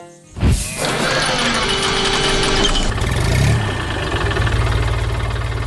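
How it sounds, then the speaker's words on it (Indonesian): A heavy red tractor engine roars to life with a sharp burst, then keeps running in a loud, rumbling, slightly knocking idle close by. "Suara mesinnya menggelegar"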